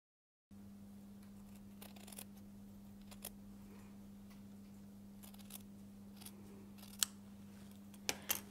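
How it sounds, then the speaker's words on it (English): Scissors cut away extra seam allowance on a cashmere jacket: scattered faint clicks and snips, a couple sharper toward the end, over a steady low electrical hum. "I cut the extra piece of the seam."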